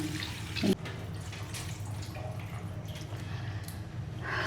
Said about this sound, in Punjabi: ਸੋ ਆਪਣੀ ਦਾਲ ਧੋਤੀ ਗਈ ਆ ਠੀਕ ਆ ਪਾਣੀ ਡੋਲ ਗਿਆ